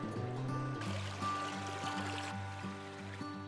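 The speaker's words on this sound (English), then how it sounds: "There's this beautiful creek that runs through the property here." Creek flowing through spring woods in the Pacific Northwest, a steady close babble of running water with a low droning hum underneath throughout.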